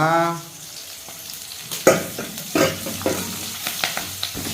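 Green chillies hit hot oil while prawn curry is stir-fried in Jaffna, giving a loud initial sizzle that settles into crackling frying with several sharp scrapes and stirring knocks of a spoon against the pan.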